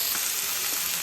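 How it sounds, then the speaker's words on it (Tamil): Chicken for chicken 65 frying in a pan, a steady close hissing sizzle filling the short moment with no talking. "இது நல்லா வேகட்டும், நல்லா ஃப்ரையாக வரட்டும்."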